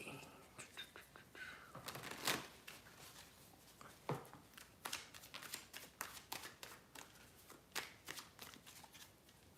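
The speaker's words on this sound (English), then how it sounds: "I just gotta shuffle the cards." Cards being shuffled close by, a series of crisp riffling bursts and soft taps, with a quiet voice murmuring in between.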